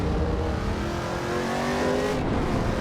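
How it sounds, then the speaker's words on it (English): A muscle-car engine in the racing game Assetto Corsa EVO roars steadily with a deep, throaty rumble, holding a constant revving drone throughout without pause. "This car does sound like a muscle car though"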